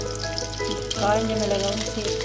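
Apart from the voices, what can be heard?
garlic and mustard seeds frying in oil in a kadai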